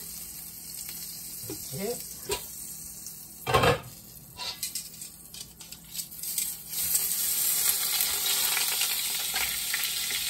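Butter hisses and sizzles in a hot pan with chicken for a pan-cooked chicken barbecue, rising to a steady, loud fry after clatter and stirring, with a brief word spoken.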